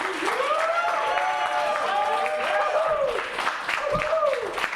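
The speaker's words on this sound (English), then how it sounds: "Please join me in giving him a round of applause as he makes his way to the podium" Crowd applause greets a speaker walking to the podium at a fight night event. Dense, steady clapping runs throughout, with whoops and voices rising over it.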